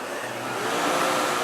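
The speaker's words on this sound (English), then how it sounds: "we turn on the vacuum right here in the handle, and we just start vacuuming the carpeting" A Sebo Felix upright vacuum cleaner with its power brush on, set to level 2 on thin carpet, gives a steady close whooshing motor drone with no talking.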